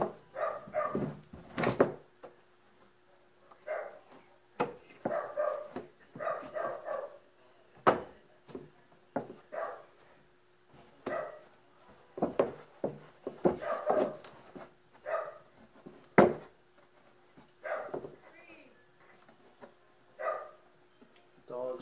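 A dog barks in repeated bursts, somewhat muffled and at a distance, with short pauses between volleys, continuing throughout.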